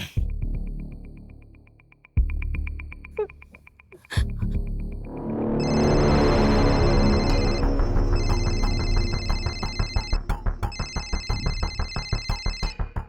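An electronic phone ringtone plays, starting with a few sparse tones and swelling into a loud, busy repeating melody with pulsing beeps, no talking.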